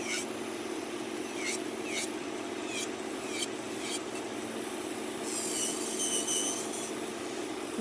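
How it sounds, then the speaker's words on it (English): A nail drill fitted with a medium X-cut bit files a sculpted nail, giving a soft steady rasp with repeated brief high whines as the bit touches down, close and quiet, with a voice faintly present. "My nail drill bit is from Young Nails. It's an X-cut drill bit, medium."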